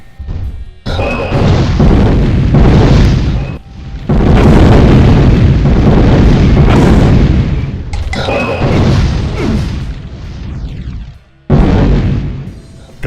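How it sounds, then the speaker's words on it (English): Heavy booming cannonball shots from a Mancubus variant monster in a Doom mod, several loud blasts with long rumbling crashes overlapping in bursts, separated by short gaps. "It can also shoot the faster cannonball shots."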